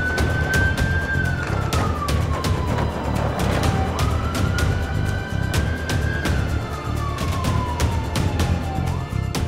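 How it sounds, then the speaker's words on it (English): Wailing siren of a Red Cross Land Rover Discovery emergency response vehicle responding with blue lights, rising and falling steadily over loud engine and road rumble, continuous throughout. "put on the blue light and the sirens"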